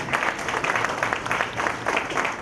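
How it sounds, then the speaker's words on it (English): An audience at a seminar gives sustained applause, many hands clapping steadily and fairly close for the whole stretch, with no talking. "Big claps for them, please."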